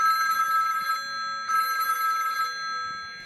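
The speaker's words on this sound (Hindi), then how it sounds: "इसे ये रिंगटोन बहुत पसंद है" A phone ringtone trills in two repeating bursts with a short pause between them, loud and close, with faint background sounds underneath.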